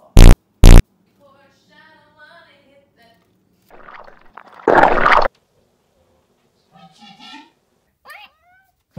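A fart, a loud, brief, sputtering burst close to the mic, set between quieter scattered noises and a few soft meow-like sounds.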